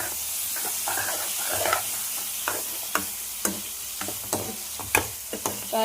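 Broad beans seasoned with turmeric and rock salt get stirred in a hot pan, a steady sizzle broken by repeated scraping knocks of the spoon against the pan, fairly close.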